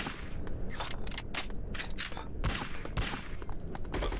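Rapid bursts of gunfire in the video game Bad Boys: Miami Takedown: loud, dense volleys of shots with brief gaps between them, continuing steadily throughout.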